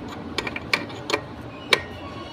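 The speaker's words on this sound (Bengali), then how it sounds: "এবার এখানে 12 নম্বর নাট দিয়ে ভালো করে টাইট করে দিতে হবে" A 12 mm nut being tightened on a TVS Jupiter BS4 scooter with a ratchet or spanner, giving a few sharp, close metallic clicks spread out over quiet workshop background.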